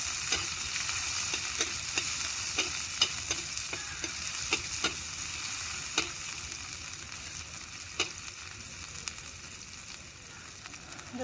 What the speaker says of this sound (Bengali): টমেটো দিয়ে একটু নেড়ে ফেলে নিই